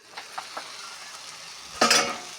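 Egg and vegetables fry in a pan, a soft continuous sizzle with a few light stirring taps, then a louder burst of hissing as the food is turned or more is added near the end.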